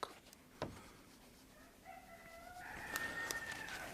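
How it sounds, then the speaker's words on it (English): A rooster crows in the distance, its call rising and holding, with a couple of faint clicks and quiet background hiss. "The rooster thinks so too."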